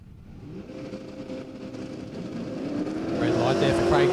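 Drag racing cars, a black and orange Ford Capri and a Holden Statesman, rev at the line with engine noise building steadily louder over a few seconds, under a commentator's voice.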